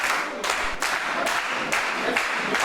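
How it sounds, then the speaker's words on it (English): A fired-up wrestling crowd at a New Year 2020 tag-team match roars steadily, with rhythmic bursts of clapping rising every half second or so over a continuous wash of cheering. "This crowd's fired up."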